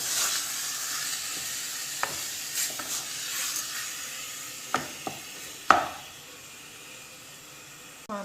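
Onions fry in a pan with a steady close sizzle and hiss, broken by several sharp clacks and knocks of utensils against the pan, the sizzle dropping away near the end, no talking.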